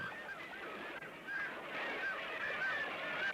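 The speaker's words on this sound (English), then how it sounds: "The gulls feast on something definitely not meant for them." A noisy flock of seabirds calling over and over, harsh overlapping cries against a steady wash of wind and water.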